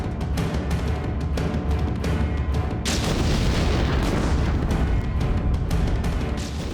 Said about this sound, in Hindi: सत्रह जून को दरभंगा के रेलवे स्टेशन पर एक धमाका हुआ।